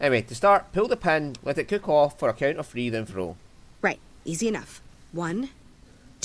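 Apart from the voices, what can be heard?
No distinct noise like a dog, phone or traffic.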